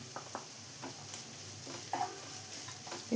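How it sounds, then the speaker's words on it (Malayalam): Crushed garlic, six cloves, and a small piece of ginger sautéing with browned onions for an egg roast. A faint, low sizzle runs under a few light spoon scrapes and taps against the pan. "ഇനി ഇതിലേക്ക് 6 വെളുത്തുള്ളിയും ചെറിയ പീസ് ഇഞ്ചിയും കൂടെ ചതച്ച് വെച്ചത് ചേർത്ത് കൊടുക്കാം."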